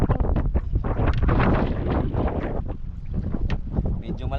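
Strong wind roars and buffets the microphone continuously, loud and rough, with faint voices and outdoor noise beneath it.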